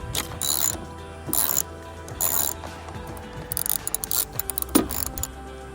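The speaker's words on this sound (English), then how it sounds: "So we're gonna need a 10mm socket on a ratchet." A ratchet fitted with a 10mm socket loosens a bolt on a junkyard car part, its clicking pawl coming in several close, loud bursts of rapid ticks, some quick and choppy, with no talking.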